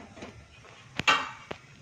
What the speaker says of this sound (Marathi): आता आपण गॅस पेटवून घेऊयात. त्याच्यावरती पातेलं ठेवूयात.